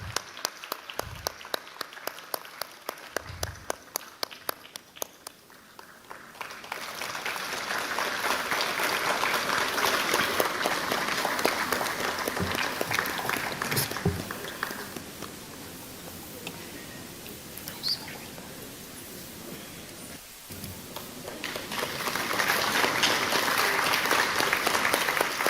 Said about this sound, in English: can we have a warm round of applause as we felicitate our chief guest